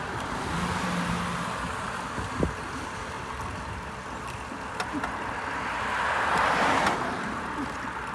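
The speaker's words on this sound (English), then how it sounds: "With a whole line of traffic." Line of traffic on Lowell Street on a busy Sunday morning, a steady roadway rumble of passing cars that swells toward the end, heard from nearby at the roadside.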